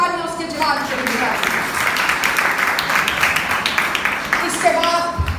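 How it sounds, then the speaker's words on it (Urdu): A congregation at a church service breaks into loud, dense applause that holds steady for several seconds, with a voice heard at the start and end. "آئے زوردار تالیاں اس کے جلال کے لیے."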